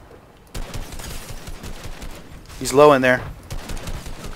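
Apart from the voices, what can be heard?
gunfire in a video game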